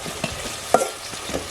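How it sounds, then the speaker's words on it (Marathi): Soaked poha stirred into a sizzling tempering in a pan over a village wood-fired stove, with a soft continuous fry hiss and several quick scraping stir strokes, close up. "आता आपण हे सर्व पोहे फोडणीमध्ये घालून घेणार आहोत"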